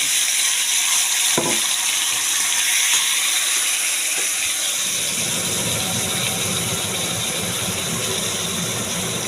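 Onion paste frying in hot oil with a little sugar for palak paneer, a steady loud sizzle and hiss that swells after a sharp drop-in about four seconds in, with no talking.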